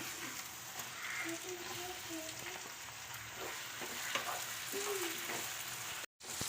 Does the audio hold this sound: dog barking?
no